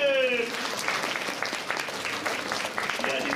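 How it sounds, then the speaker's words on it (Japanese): An audience at the Turtle Talk show in Tokyo DisneySea applauds three guests: a loud, dense burst of clapping from a large crowd that carries on steadily, with a voice heard briefly at the start. "みんな3人に拍手を送ってくれ。"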